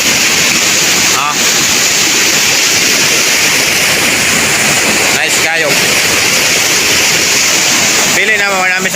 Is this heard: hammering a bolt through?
no